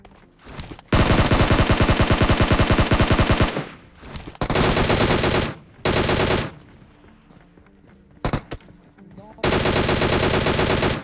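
Automatic gunfire in PUBG Mobile, several long loud bursts of rapid shots broken by short pauses, close and dominant.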